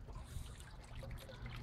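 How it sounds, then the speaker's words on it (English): Water from a 1200-gallon-per-hour pump in a deep water culture aquaponics setup flows and trickles in a steady, continuous wash at fairly low level, with no talking. "We have a 1200 gallon an hour pump that's down in the deep water culture"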